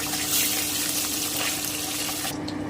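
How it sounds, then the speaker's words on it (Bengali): Koi fish fry in hot oil, a steady close sizzle and crackle that hisses on continuously without pause. "এভাবে আমি সবটা মাছকে ভেজে নিচ্ছি"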